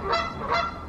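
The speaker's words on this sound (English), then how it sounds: "You got some geese." Geese honk outside a house, two loud, close honks in quick succession with no one talking.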